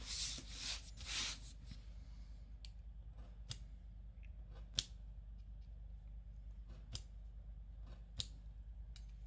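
Scissors snip through paper pieces in a quiet room, making faint, sparse clicks and small cuts spread across the stretch after some brief rustling at the start.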